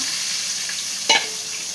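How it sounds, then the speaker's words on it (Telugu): Eggs frying in a pan give a steady, even sizzle across the whole stretch, with one brief scrape or clink near the middle and no talking. "గుడ్లు ఇలా వేగాలి, ఇలా వేగాలి. అలా వేపుకుందాం."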